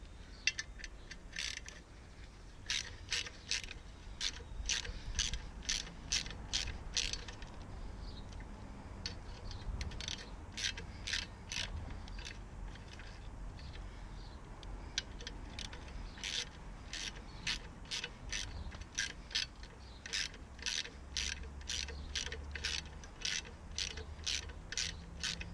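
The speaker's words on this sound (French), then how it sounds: "je m'équipe de ma grande rallonge, d'une douille de 10 et du petit cliquet" A small ratchet with a 10 mm socket on a long extension loosening the skid plate bolts of a pit bike, making repeated rapid bursts of crisp clicking, close and clear with short pauses between strokes.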